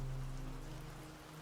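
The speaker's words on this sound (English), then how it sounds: "Water started raining from above" Soft, steady patter of falling rain with a low constant hum beneath, faint and unchanging throughout the short stretch.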